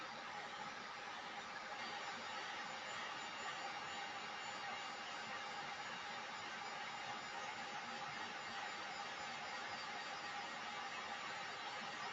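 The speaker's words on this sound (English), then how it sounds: "my heat tool is already warmed up" A warmed-up heat tool blows hot air over torch paste on a reusable-silkscreen car charm or mini sign, a steady, even broadband whoosh that holds unchanged and close for the whole stretch.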